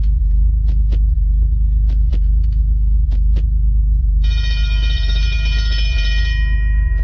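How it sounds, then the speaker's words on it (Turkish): Bell ringing in the Hello Neighbor video game inside a school: sharp metallic strikes repeat over a low constant rumble, then a sustained ringing tone takes over near the end. "döndükçe zil çalıyor"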